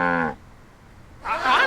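Two loud, close cow moos in the Sam and Max video game: a short low-pitched moo, a brief pause, then a longer, rising, strained moo.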